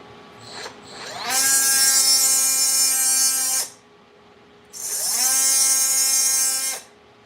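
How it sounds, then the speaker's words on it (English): A bench grinder sharpening a tungsten welding electrode gives a steady high-pitched whine in two long bursts, each rising as the wheel spins up and the tip touches, then dropping away, close and loud. "Need to give my tungsten a little sharpening."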